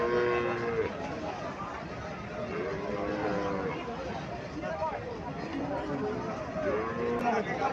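A Sahiwal calf and other cattle moo repeatedly at the Mirshanni cattle market in Comilla, their lowing calls recurring at varying distances over a constant crowd babble and nearby talking.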